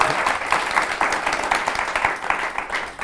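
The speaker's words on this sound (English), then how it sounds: "So give yourself a round of applause." Podcast live audience applauding, a lively burst of many hands clapping close and steady for a few seconds, with light crowd murmur and cheering beneath.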